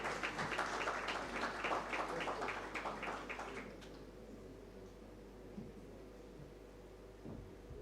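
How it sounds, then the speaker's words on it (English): A conference hall audience at the Insurance Brokers Association of Uganda conference claps for bronze sponsors, a dense burst of applause for about four seconds that then drops off into quiet room noise. "Can we clap for our bronze sponsors"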